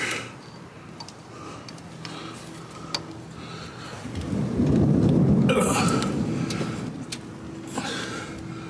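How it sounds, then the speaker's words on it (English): A low rumble of thunder swells in the middle and fades slowly, with light ticking and tapping sounds scattered around it. "There is thunder in the background"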